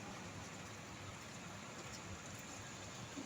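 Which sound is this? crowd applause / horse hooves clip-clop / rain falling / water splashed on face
rain falling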